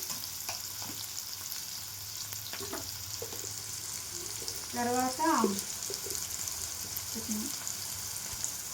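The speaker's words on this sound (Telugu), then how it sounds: "ఉల్లిగడ్డ వేసుకోవాలి ఫ్రెండ్స్, ఇది కొంచెం మంచిగా వేగాలి" Onions frying in a pan for egg curry give a steady, close sizzle, with a few scraping stirs and a brief louder burst of activity in the middle.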